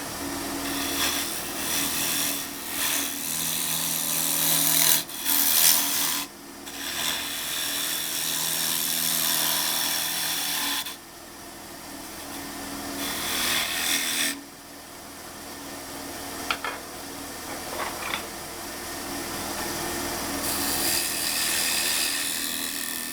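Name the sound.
turning a wooden lidded box tenon on a lathe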